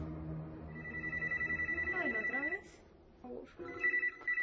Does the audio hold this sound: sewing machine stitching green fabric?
no